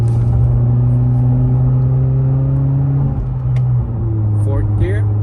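Loud cabin drone from a 2018-2022 Honda Accord running without muffler or resonator as it accelerates in third gear, the low exhaust tone climbing steadily and then dipping briefly at a shift-like break before resuming.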